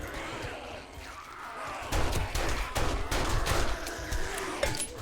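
Dense, loud gunfire from a gun during a horde fight in 7 Days to Die, with rapid overlapping shots and impacts that grow heavier midway, and a faint voice in the background.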